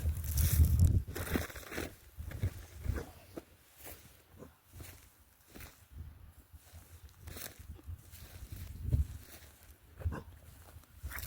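A snared coyote barks at close range, giving a few short, sharp barks spaced out over several seconds, with footsteps and rustling in between.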